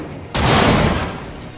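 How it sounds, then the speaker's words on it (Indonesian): Gunfire erupts suddenly in a crime film set in 2005, a loud booming blast that fills the scene and rolls on as a sustained roar, heard alone without voices. "Saat mereka mengetuk pintu, mereka malah disambut dengan tembakan shotgun."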